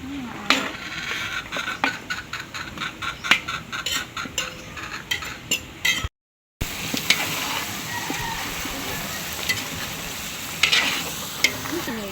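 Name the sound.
stirring food frying in a pan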